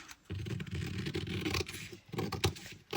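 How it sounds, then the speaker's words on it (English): Scissors snip through paper for a momigami junk journal, a series of close, quiet scraping cuts in short bursts with brief pauses between them. "I cannot cut straight with scissors."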